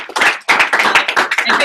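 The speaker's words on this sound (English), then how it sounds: "Give him a round of applause." A brief round of hand clapping from a small group in an office, dense and close, rising sharply after a short pause and continuing steadily for under two seconds.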